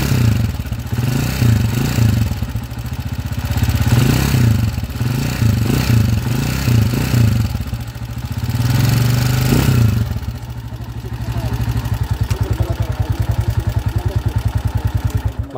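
A converted 200cc motorcycle engine runs in a shop, a steady close mechanical rumble with clattering rhythm and surging revs throughout, settling into a faster, even idle near the end.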